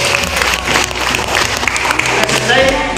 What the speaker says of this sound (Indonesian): Tepuk tangan untuk Niki dulu.